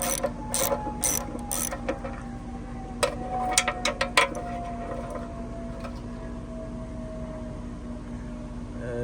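A ratchet with a 13 mm socket works loose a fuel filter on a Harbor Freight Central Machinery 69738 plate compactor, giving quick bursts of close, crisp clicking over a steady low hum, then quieter scattered ticks.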